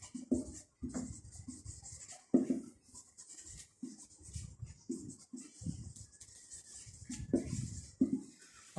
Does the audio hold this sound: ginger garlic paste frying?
no